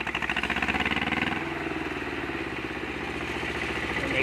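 A two-cylinder hot-bulb tractor engine chugs with a steady, loping low-pitched rhythm, loud and close, settling into an even idle after a brief surge.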